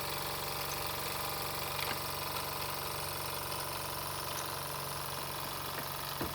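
Jensen No. 5 live steam model engine running, a steady mechanical hum with a fine rapid knocking rhythm, close and constant at low level with no talk.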